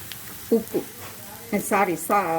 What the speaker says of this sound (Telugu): ఇప్పుడు మన ఆనియన్స్ అంతా బాగా ఫ్రై అయిపోయినాయి చూడండి.